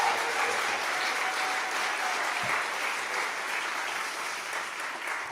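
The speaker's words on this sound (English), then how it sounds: "Let's give them one more round of applause." Audience applause fills a church after an a cappella concert at Pluckemin Presbyterian Church, a steady dense wash of clapping that holds at an even level throughout with no voices over it.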